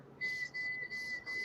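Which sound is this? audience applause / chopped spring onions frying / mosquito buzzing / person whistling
person whistling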